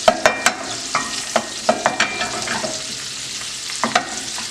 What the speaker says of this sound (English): Stir that around just a little bit.